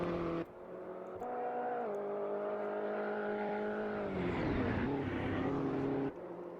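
Mini Cooper race cars in a racing video game sweep past as a steady droning engine whine that climbs and dips in pitch, loudest toward the middle, with no voices.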